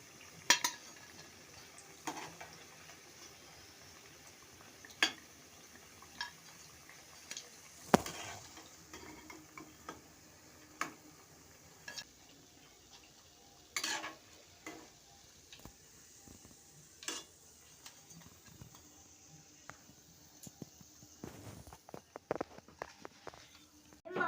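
Onion fritters are lifted one by one from hot frying oil: faint sizzling under a series of sharp metal clicks and taps of a utensil against the pan, spaced irregularly and fairly quiet.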